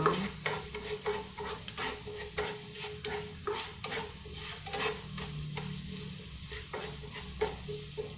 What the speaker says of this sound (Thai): คั่วให้หอมนะจ๊ะให้มันเหลืองกัน ให้มันเหลืองก่อนนะคะนิดนึง